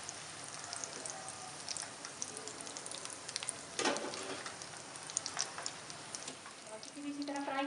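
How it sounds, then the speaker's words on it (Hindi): Potato chicken cheese balls fry in hot oil, a faint, steady sizzle with occasional soft pops and light clinks, no voices. "बाकी भी इसी तरह फ्राई कर लेंगे।"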